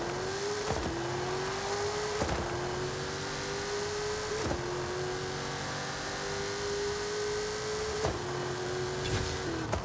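A 2021 Dodge Durango Hellcat engine in a Forza Horizon 5 drag run holds a steady high drone, with brief gear-shift dips repeating roughly every two seconds, loud and alone.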